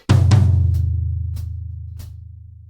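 A drum kit plays one bar of a Trinity College London Grade 4 piece: two loud hits open the bar, then lighter, evenly spaced cymbal-like taps follow over a long, low, ringing drum tone that slowly fades.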